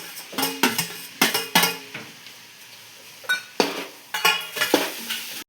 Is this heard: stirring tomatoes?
yes